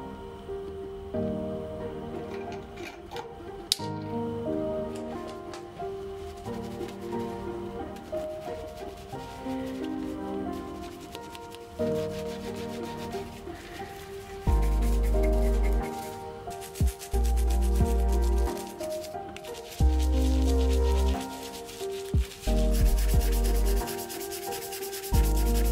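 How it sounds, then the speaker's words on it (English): Scrubbing a vintage 1961 Ken doll produces repeated rubbing and brushing strokes, close and fairly faint, with background music playing throughout and several louder low thumps in the second half. "I start off by giving Ken a good scrub"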